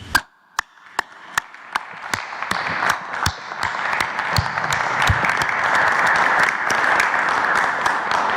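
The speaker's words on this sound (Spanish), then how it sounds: "Un aplauso." An audience at a morning presidential press conference breaks into applause, starting with a few sharp, spaced claps that quickly build into dense, steady clapping held at a moderate level.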